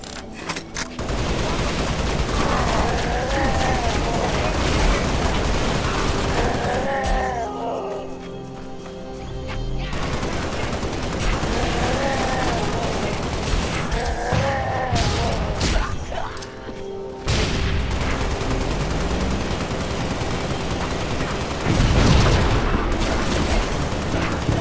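Heavy gunfire and explosions in Halo: Spartan Strike: dense, loud automatic fire with booming blasts in several bursts, broken by brief lulls, while a voice speaks over the combat.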